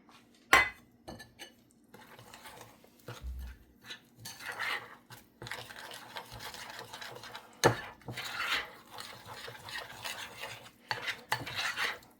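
A spoon stirs gluten-free pancake batter in a bowl, giving irregular scraping swishes and occasional sharp clinks against the side, close and fairly quiet.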